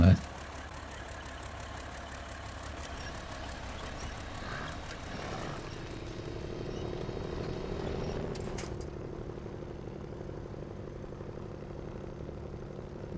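A Kenworth truck's engine in SnowRunner drones steadily at low pitch as the heavy truck grinds along a rough, unsuitable path, holding a constant, slightly rising hum with a voice talking over it.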